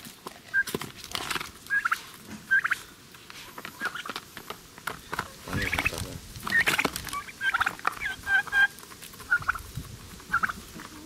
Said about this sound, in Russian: Вот, Никита кормит индюшек